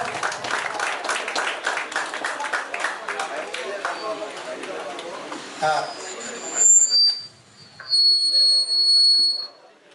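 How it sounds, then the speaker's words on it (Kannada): Audience applause at a prize-distribution function for a tournament in Bangalore, a dense crackle of clapping for about six seconds that fades out, followed by sharp whistles and tones. "ಚಪ್ಪಾಳೆ ಹುಡುಗಿಸಿ ನೋಡಿ"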